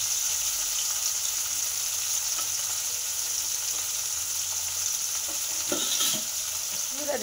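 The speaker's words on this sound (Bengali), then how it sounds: "এখানে ভাজা হচ্ছে মোরলা মাছ" Morola fish frying in a pan of hot oil, giving a steady, dense sizzle that holds throughout at close range, with occasional stirring clatters near the end and no voices.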